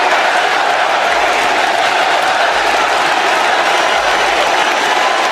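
Ovation from a packed crowd of over 20,000 in Chicago's United Center arena, a continuous roar of applause and cheering that holds steady and loud throughout.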